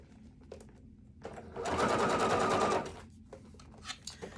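A sewing machine runs in one short steady burst while sewing a Moondance notepad near a strip of tape, with soft clicks and fabric handling before and after.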